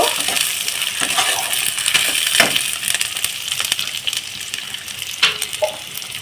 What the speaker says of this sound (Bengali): আবার মশলাটাকে আমি ভালোভাবে কষিয়ে নেব